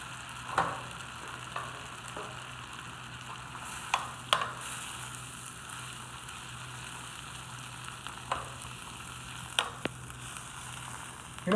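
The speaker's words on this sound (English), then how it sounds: "Roasted apples and pork. Let it all simmer a little bit." Sauce of roasted apples and pork simmers and sizzles steadily in a pan, with scattered pops and light clinks of stirring now and then.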